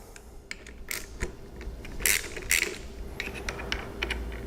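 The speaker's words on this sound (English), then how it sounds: "we'll go ahead and loosen these T27s that are holding the clutch on here" Torx T27 bolts being loosened on a Harley clutch housing, with a series of small metallic clicks and ratcheting ticks, several sharper snaps among them, close up over a faint steady background hum.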